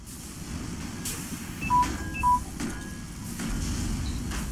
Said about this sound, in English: That was my cell phone.